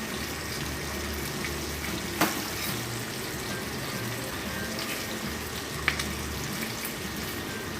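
Bacon frying until crispy in a pan, a steady dense sizzle and crackle held close and even throughout, with a couple of sharp spatula ticks.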